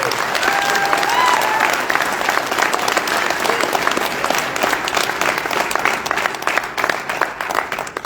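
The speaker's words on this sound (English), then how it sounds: "please give our inductees for 2022 one last big applause" Sustained applause for 2022 sports hall of fame inductees fills a banquet hall at an annual sports association dinner, steady and full with a murmur of crowd voices woven through.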